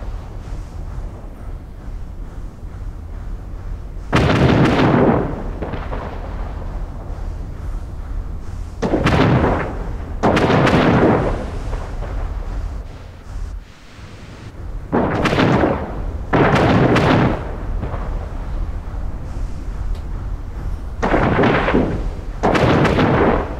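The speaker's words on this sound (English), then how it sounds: "Fleet, prepare to fire." Cannons fire from sailing warships during a naval battle in Anno 1800, a run of loud, heavy booming blasts, each followed by a rumbling roar, rolling over steady battle noise.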